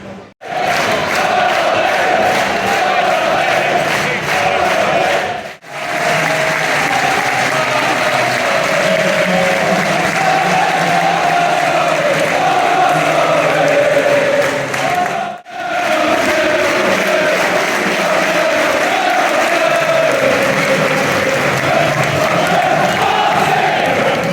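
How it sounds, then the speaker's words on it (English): Football stadium crowd at an Oldham versus Notts County match holding a minute of applause for Pelé, a loud, sustained roar of clapping and cheering with a few brief breaks. "We just had a minute applause after Pele passed away a few days ago."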